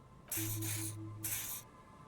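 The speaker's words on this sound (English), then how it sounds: "He douses you with the odd-smelling spray, a double helping as you present the other armpit" Spray from an aerosol-style can in the video game Disco Elysium, given two loud hissing bursts close up, the first long and broken by a short gap, the second briefer, over a low steady hum.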